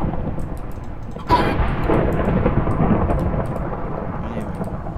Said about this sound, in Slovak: Prečo tu tak tieto blesky búchajú? Podľa mňa to je veľmi nahlas.